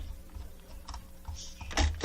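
Computer keyboard keys being pressed, including the spacebar, during 3D modeling work, heard as a few soft clicks and one louder clack near the end over quiet room noise.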